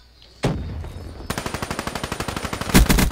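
Video game gunfire, a single loud shot followed by a rapid, even burst of automatic fire close up, ending in a heavier blast.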